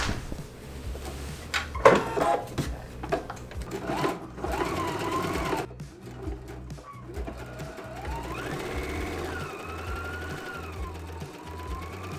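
A sewing machine hems a homemade maxi skirt, running in loud whirring bursts with short pauses, while a siren wails faintly in the distance partway through.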